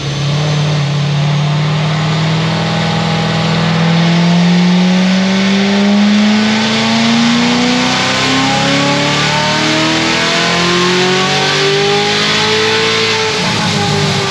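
A 1250 hp C7 Corvette Z06 engine roars through a sustained dyno pull, its pitch climbing steadily and loud from start to finish, with no talking over it.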